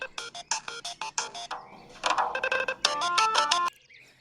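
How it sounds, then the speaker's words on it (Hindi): A mobile phone rings outdoors at a quiet spot away from the city, a rapid series of bright electronic tone pulses followed by a sustained melodic phrase, fairly close and clear. "अरे जोहान, तुम्हारा मोबाइल बज रहा है।"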